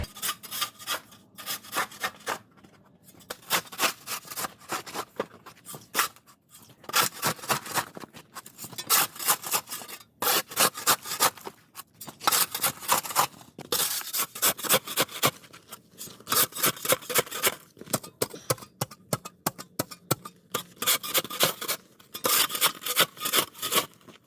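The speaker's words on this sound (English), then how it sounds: "So I'm going to try and scrape that out of there." Ice being scraped out of a house gutter in winter: repeated rough rasping strokes in irregular bursts with short pauses between, close and fairly loud, with no talking.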